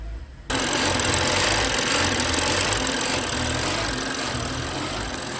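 A BMW N55 engine runs through its Valvetronic adaptation procedure, starting abruptly into a loud, close, steady mechanical clatter and hum that holds evenly and eases slightly toward the end.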